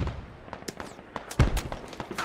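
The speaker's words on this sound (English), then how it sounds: "Aegon and Aethel taking some shots here" Scattered gunfire from a squad-based tactical shooter game: several sharp, separate cracks at irregular intervals, moderately loud, with one heavier report partway through and no talking.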